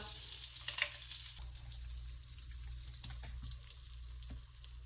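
Bay leaf frying in hot ghee and butter in a pan: a faint, steady sizzle with soft crackles and a low hum underneath, quiet and close.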